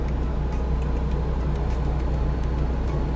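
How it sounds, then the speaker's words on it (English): A truck engine drones steadily in American Truck Simulator during a convoy drive, a low continuous rumble with faint ticking, close and unbroken, with no voices. "just listening to the sound of the truck."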